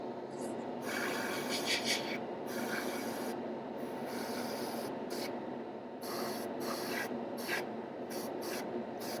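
A steady hissing airbrush sprays paint thinned with thinner, with the soft continuous air rush broken by several short pauses as the trigger is released and pressed again.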